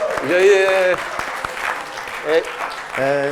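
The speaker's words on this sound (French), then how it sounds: "l'applaudir, cette blague, quand même" Audience applause breaks out after a joke at a tech conference session, a brief burst of clapping mixed with a presenter's voice talking over it.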